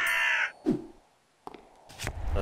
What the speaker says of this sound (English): Oh, they're crows.